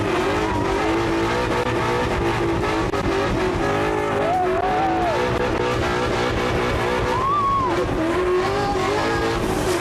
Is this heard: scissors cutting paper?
no